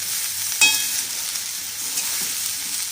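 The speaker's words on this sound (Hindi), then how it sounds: "अब इसको हल्के हाथ से अच्छे से प्याज के साथ मिक्स कर दीजिए" Okra and onions sizzle in a pan as they are stirred, a steady bright hiss with a sharp scrape of the spoon near the start, close and continuous without any talking.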